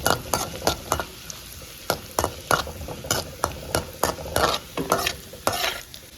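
Raisins frying in a pan while making rava laddu, with a steady sizzle and a regular rhythm of sharp utensil scrapes and taps against the pan, close and clear, with no talking.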